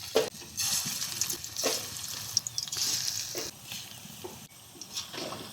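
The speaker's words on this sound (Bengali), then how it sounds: "তেলটা গরম হয়ে গেছে, এখন বড়াগুলো তেলের মধ্যে দিয়ে দেবো" Lentil and Malabar spinach fritters sizzle steadily in hot oil in a frying pan, a continuous crackling hiss with occasional louder pops, close and fairly quiet.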